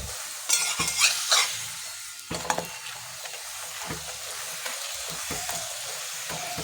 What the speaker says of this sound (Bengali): এইবার এর মধ্যে তেল দিয়ে ভালো করে ভেজে নিচ্ছি।